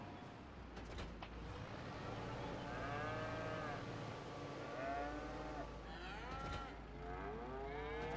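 Cows moo in a crowded pen in Farming Simulator 25, several drawn-out, wavering calls overlapping over a steady low engine-like hum, fairly faint and with no talking.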